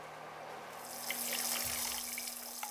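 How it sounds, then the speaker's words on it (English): Tap water runs into a kitchen sink as recyclables are rinsed, the steady splashing stream starting under a second in and continuing close and even to the end, with small clinks of items under the flow. "I like to make sure I wash and rinse all of our recyclables."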